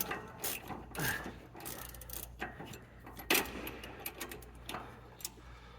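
A ratchet wrench tightens a 19 mm nut on Sasquatch sway bar links, giving several short bursts of close mechanical clicking separated by brief pauses.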